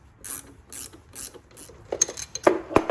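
A ratcheting 14mm wrench working a strut nut on a Fiat 124 Spider Abarth, a close series of soft rhythmic clicks that grow into louder, sharper ratchet snaps toward the end, with no talking.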